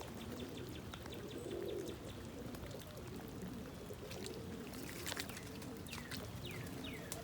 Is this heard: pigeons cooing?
yes